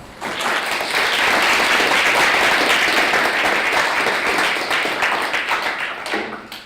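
A seminar audience bursts into sustained, loud applause to welcome Professor Etienne Balibar, steady dense clapping that holds for several seconds before tapering off near the end.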